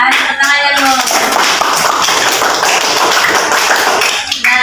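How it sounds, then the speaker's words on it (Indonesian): A classroom group clapping together, loud and sustained for several seconds, with a brief voice at the start and end. "Tepuk tangannya dulu."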